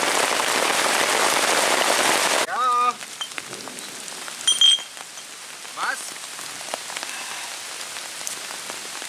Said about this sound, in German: es hagelt zum Teil